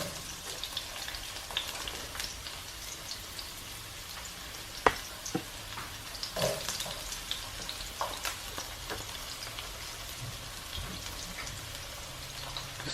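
Chopped yellow and red onions fry for chili in a quiet, steady sizzle, with occasional light taps and scrapes of stirring scattered throughout, fairly faint and with nobody talking.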